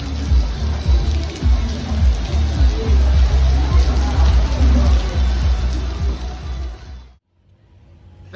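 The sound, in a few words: rain falling on a street in Koh Samui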